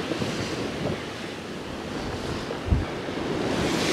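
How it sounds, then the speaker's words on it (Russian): Sea waves crashing against a storm-damaged seafront in Loo, Sochi, a loud continuous surf roar with wind buffeting the microphone and one heavier thump near the end. "То следующая волна и меня накроет."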